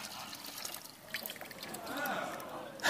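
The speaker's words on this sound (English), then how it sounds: "Right, we're just going to pour that in there." Murky pond water poured from a container into a water filter bottle, a soft trickling, splashing pour that builds toward the end, with a voice speaking over it.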